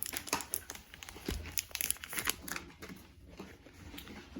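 Tape being peeled and torn from the packaging of a Lenovo Smart Clock, with close, quiet crinkling and short ripping bursts.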